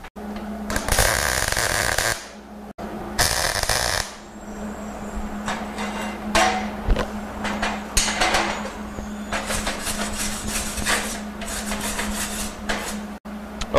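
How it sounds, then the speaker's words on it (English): MIG tack welding two steel pieces together: loud, close crackling bursts of welding arc in several separate runs with brief pauses between, over a steady machine hum. "we got both pieces tack welded together"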